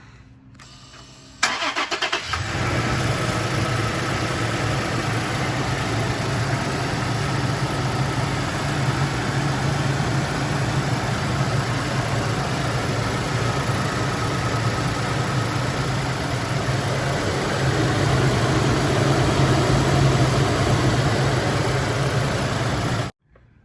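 A 2018 Toyota Tacoma pickup engine cranks and catches after a second or two of quiet, then settles into a steady, loud idle that runs on unchanged, with a new drive belt.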